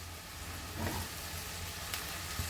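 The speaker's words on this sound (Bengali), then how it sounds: "এই মুহূর্তে এখানে পেঁয়াজটা ভাজা হতে হতে দিয়ে দেব কয়েকটা কাঁচা লঙ্কা" Chopped onions and green chillies fry in a pan on a gas flame for a chicken curry, with a continuous close sizzle and a few soft stirring scrapes.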